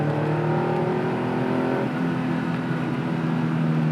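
Engine of a classic Porsche 911 hot rod revving and pulling hard under acceleration, a loud, continuous close-up roar that shifts pitch partway through as it climbs through the revs.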